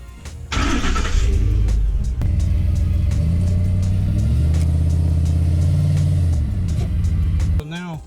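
A car backs up onto a wooden block to lift a tire off the ground, its engine starting with a loud rumble that holds steady and close before cutting off, with a voice speaking over it.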